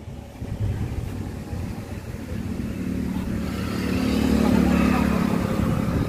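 An Indofarm 3048DI 50 hp tractor engine is being cranked and fails to catch; a low mechanical rumble builds steadily and grows louder toward the end.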